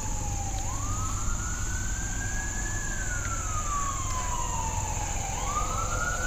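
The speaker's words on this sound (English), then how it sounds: "time I come here, that ambulance goes off." An ambulance siren wails at a distance beside a golf course pond, a slow rising and falling tone sweeping over steady background noise, with no talk.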